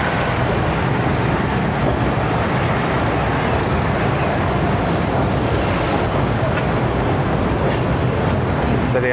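A passenger train rumbles steadily across the Mehran bridge over the Indus River, a continuous loud roar of wheels and carriages with no break.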